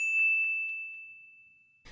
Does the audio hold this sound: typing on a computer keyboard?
no